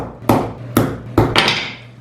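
A hammer striking a hardened epoxy test piece: four sharp, solid knocks at roughly half-second intervals, close and fairly loud, each with a short ring.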